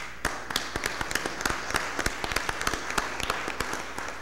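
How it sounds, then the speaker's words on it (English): A small audience at a city Board of Aldermen meeting claps for young acrobats: distinct, sparse individual claps in an uneven rhythm, close and fairly loud, with a little murmur in the room. "And I want to, again, give them another round of applause."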